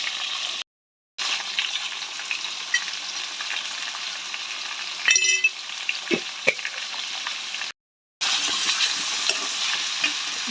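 Chopped vegetables and onions frying in a little oil at home, a steady close sizzle with stirring scrapes running throughout, broken by two brief silent gaps.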